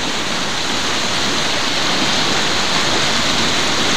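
Water churns in the wake behind a passenger ship crossing from Masbate to the Port of Lucena, a steady, loud, broadband rush with no pauses and no voices.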